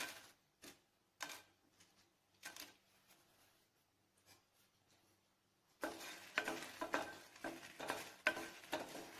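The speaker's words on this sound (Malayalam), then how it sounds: "ഇത് എണ്ണ ഒഴിക്കാണ്ട് തന്നെ നമുക്കൊന്ന് വറുത്തെടുക്കണം." About eight dry red chillies roast in a pan without oil, giving sparse scattered crackles and pops, then a denser run of stirring scrapes and sizzling taps toward the end, close and with no talking.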